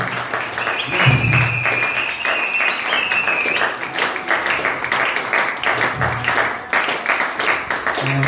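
A church congregation acclaiming and applauding during an evening worship service, sustained clapping and cheering filling the room at a loud, steady level, with raised voices and a whistle-like tone riding over the crowd.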